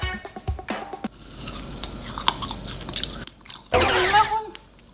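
A frozen giant tanghulu is bitten close up with a few sharp, crisp crunches, followed by quieter chewing. One loud, brittle crack comes near the end.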